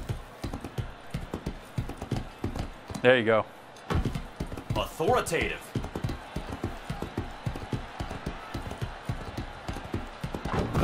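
Rhythmic clip-clop of horse hooves in the Motion Sports video game, a steady run of hoofbeats with a couple of whinnies, while people talk over the gameplay.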